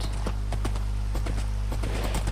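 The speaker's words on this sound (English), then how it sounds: "this horse does not belong in an airport" Horse hooves clip-clop in steady, evenly spaced strikes inside a video game airport, sitting over a constant low hum and moderately close.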